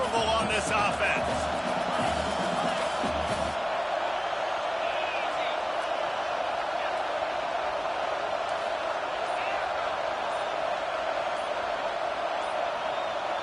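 A stadium crowd in a 2K football video game roars continuously on 4th down, a loud, dense wall of noise that stays steady throughout, with some thumping and shouting at the start.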